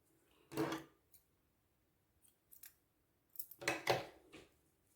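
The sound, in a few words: scissors cutting the crochet yarn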